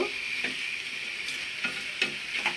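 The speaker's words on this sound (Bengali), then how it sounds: "আমি 10 মিনিট পর্যন্ত প্রথমে মশলাগুলোকে মিক্স করব" Spices being stirred into fried onions in a pan for a chicken rogan josh curry, a continuous sizzle broken by several scraping spoon strokes at irregular intervals.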